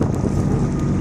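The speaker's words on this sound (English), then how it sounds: "Very windy day today." Strong headwind gusts over the water during the Head of the Schuylkill rowing regatta, a loud, steady roar buffeting the microphone with low rumbling throughout and no voices.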